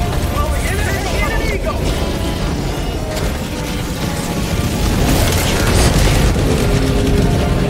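Heavy, continuous booming explosions from an aerial bombing strike in a shooter video game, loud and dense throughout with crashing debris, while players talk over it.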